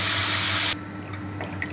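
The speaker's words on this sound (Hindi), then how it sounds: "और यहाँ पे हम इसमें ऐड करेंगे 28 कप" Water pours steadily into a pot of rice for a vegetable pulao, a loud rushing gush for under a second that stops abruptly, followed by quiet room tone with a few faint clinks.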